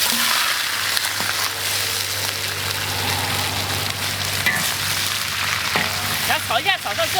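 Pork belly stir-fried in a pan for braised pork slices, a steady dense sizzle throughout with faint scraping of stirring and a voice speaking briefly near the end.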